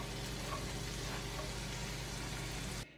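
Red wine sauce with mushrooms, shallots and garlic reducing in a pan beside a seared veal chop, giving a steady, even sizzle and bubbling hiss that cuts off abruptly at the end.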